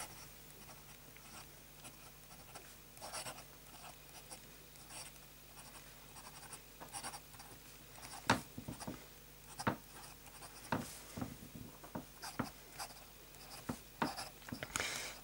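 Hand writing in cursive with a Montblanc fountain pen filled with Leonardo Red Chalk ink, the nib scratching softly in short strokes with small taps, faint and close, no talking.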